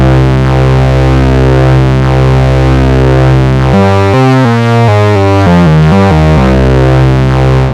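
A loud, distorted synth bass drone from a Sequential Circuits OB-6, with a gritty, beating wobble from cross modulation; midway it breaks into a choppy, stuttering pattern before settling back into the sustained tone.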